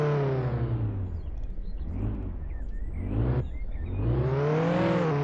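A car engine in the Roblox video game drones steadily, then climbs in pitch as it revs, drops off sharply and builds again into a rising whine, loud and close with no talking.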